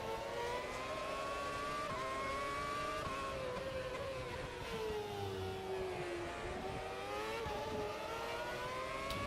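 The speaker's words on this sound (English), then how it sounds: "Love the sound of these cars?" F1 2006 race car engines scream and rev in the AMS racing game at the Hungaroring, a continuous high whine rising and falling through gear changes, loud and sustained without talk.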